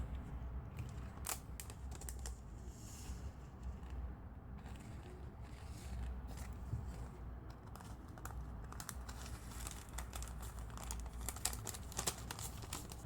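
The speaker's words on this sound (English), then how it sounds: "this is just a regular plastic bag, and I'm gonna put my sequins on the inside." A regular plastic bag crinkles and rustles continuously as sequins are put inside for a cupcake shaker card, crisp close-up crackles and brief snaps running alone throughout.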